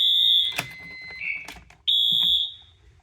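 A fire alarm system's detector and alarm sounds during a test, giving loud, piercing high tones in three bursts with brief clicks and pauses between them, close and clear.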